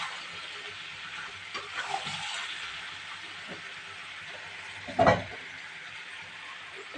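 Tomato going into a frying eggplant and potato curry, with a steady sizzle and stirring throughout and one louder burst of hissing partway through.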